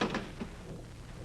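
A door opened in a radio drama, heard as a short close creak and knock at the start, then fading into room tone with no talk.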